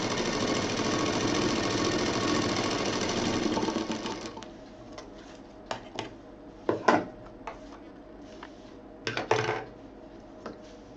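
Sewing machine stitching a zipper onto a fabric pouch, running steadily for about four seconds, then falling quiet, with scattered clicks and handling knocks afterward.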